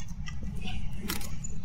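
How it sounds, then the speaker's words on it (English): A camera snaps a picture in the Phasmophobia ghost-hunting game, a short, sharp click-burst heard once over a steady low room hum. "I heard someone take a picture."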